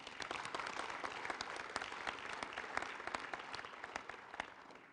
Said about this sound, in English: Please give Unity Church another rousing applause.